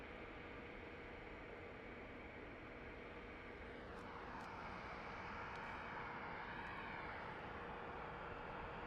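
A jet airliner at Phoenix Sky Harbor airport at night gives off a faint, continuous engine roar with a rising whine partway through, heard from a distance against steady background noise.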